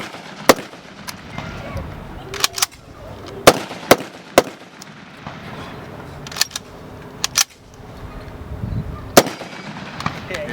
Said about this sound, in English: Now he can fire that as fast as he'll pull the trigger.